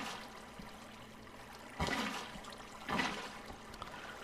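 Water flows and splashes in a blocky Minecraft-style video game, a soft steady rushing with two louder gushing surges, faint and close with no speech.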